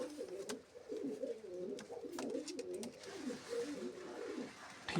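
Pigeons kept in pairs coo in soft, repeated low throaty phrases, overlapping and close, against a quiet background with occasional faint clicks.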